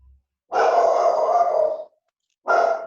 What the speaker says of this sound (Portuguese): Tem um cachorro bravo aí, hein?